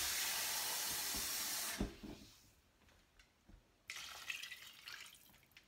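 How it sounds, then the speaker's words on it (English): Water runs loudly from a tap into a cooking pot for soup, a steady hiss that cuts off abruptly, followed by faint drips and clinks, then a second, softer burst of running water. "add a little bit more water in here"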